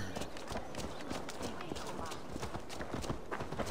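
A horse gallops in the Assassin's Creed Valhalla video game, its hooves drumming in quick, continuous clip-clop beats close by, while someone talks over it.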